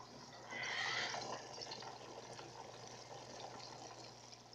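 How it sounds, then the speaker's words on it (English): Sand waterfall aquarium built from glued rocks, where air bubbles from an air line inside a PVC pipe lift sand that then falls; a steady watery trickle and bubbling runs throughout, with a brief louder splashy swell near the start. "the air bubbles raise the sand up and then they fall"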